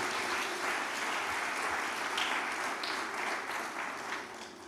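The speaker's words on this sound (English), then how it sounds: "Aradna, you are special, and I want us to give a very special round of applause to Aradna Wallace." Audience applause at a tourism conference, a sustained crowd clapping heard somewhat distantly that eases slightly toward the end.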